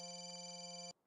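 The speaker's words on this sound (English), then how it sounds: "Is that the phone I'm calling?" A telephone rings inside theHunter: Call of the Wild, Yukon Valley quest, as one steady electronic tone that holds loud and clear for almost a second, then cuts off abruptly.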